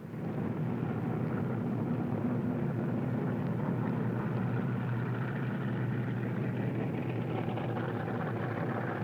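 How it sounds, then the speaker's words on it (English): Drop aircraft on the flight line, its engine running as it is wheeled into position for loading, gives a continuous droning roar that holds steady and fairly loud from start to finish. "Out on the flight line, the drop aircraft is wheeled into position for loading."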